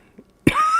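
A single sharp cough bursts out close by, then trails into a lingering rasp with a faint rising tone, after a moment of near silence.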